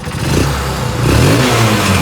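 A motorcycle engine runs steadily after its original CDI unit is reinstalled, a loud, close mid-pitched drone with slight revving swells and no talk over it.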